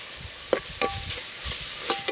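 Tomato pieces and green chillies fry for a mutton curry, with a sizzle under several short scraping stirs and taps of a spoon against the pan.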